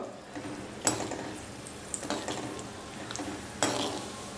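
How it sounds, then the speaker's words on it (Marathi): Black raisins frying in oil in a pan for thin poha chivda: a quiet, continuous sizzle with a few clinks and scrapes of a spoon against the metal. "आता यात आपण वन फोर्थ कप काळे मनुका तळून घेऊया"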